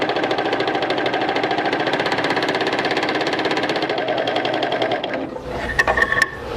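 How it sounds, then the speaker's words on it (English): A serger runs a 4-thread overlock seam on mitts as a fast, steady, close mechanical chatter for about five seconds, then stops, leaving a few light clicks and rustles. "that's the first seam that's serged. You can see we got a nice 4-thread overlock"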